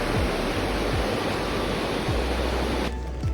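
Steady broadband rush of flowing water, loud and continuous like a stream or small waterfall, beside a temple in the mountains of Japan, with a few soft low thumps and the roar dropping slightly near the end.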